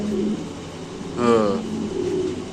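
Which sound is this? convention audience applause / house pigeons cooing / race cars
house pigeons cooing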